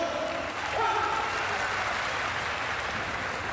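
Broad, steady applause from a studio audience at a Uyghur television show, a continuous wash of clapping that holds at an even level throughout, with a voice briefly speaking over it at the start.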